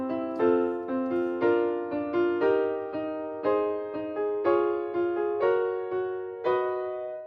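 A circle-of-fifths progression made entirely of major chords, about a dozen sustained chords struck one after another at a steady moderate pace, each ringing and fading, with no voices.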